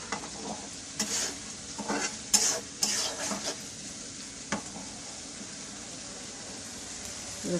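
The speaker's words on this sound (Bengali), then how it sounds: "মশলাটা ভালো করে কষানো হয়ে গেছে, এখন দিয়ে দেবো টমেটো।" Spice paste frying with tomato in a pan, a soft continuous sizzle broken by several spatula scrapes and stirring clanks in the first half, then quieter frying alone.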